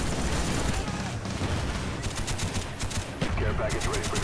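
Rapid gunfire from a Call of Duty Black Ops multiplayer match, dense repeated shots and bursts over constant game noise, loud and steady for about four seconds with talk mixed in.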